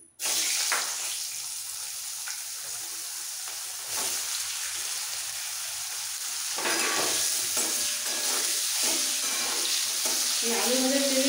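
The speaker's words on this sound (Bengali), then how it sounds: "ফুলকপিও ব্রাউন করে ভাজা হয়ে গেছে" Cauliflower fries in the oil left over from frying potatoes, a continuous loud hiss and sizzle with occasional clatter of stirring, close up and without talk.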